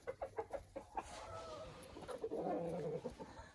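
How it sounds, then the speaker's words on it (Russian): Hens clucking inside a coop, several birds with short, repeated clucks at first, then a busier overlapping chorus of clucking and murmuring fowl, fairly quiet and close. "вот эти курочки мне очень нравятся"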